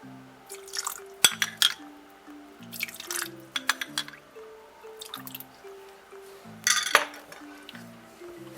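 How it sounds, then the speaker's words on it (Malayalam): A spoon stirs sugar and water in a pan, making scattered clinks and scraping taps against the metal, with soft background music tones running beneath. "പഞ്ചസാര സ്പൂൺ കൊണ്ട് തന്നെ ഒന്ന് മിക്സ് ചെയ്ത് കൊടുക്കണം"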